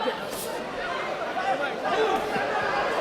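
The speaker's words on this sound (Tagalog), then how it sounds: "yung narinig mo yung crowd na nagbubulong-bulungan" A fight crowd at a boxing event murmurs and chatters in a low, continuous wash, with scattered voices rising and falling in the background.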